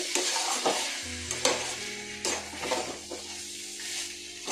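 Chicken dopiaza frying in a pan with a steady sizzle, while a spoon stirs through it in scraping strokes and pot clanks across several seconds, close and fairly loud, with no talking.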